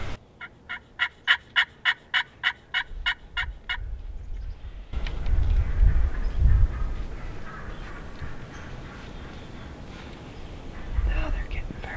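A wild turkey gobbles during a turkey hunt in the outdoors, giving a rapid run of about a dozen sharp, rhythmic notes, followed by rustling movement and soft whispering nearby.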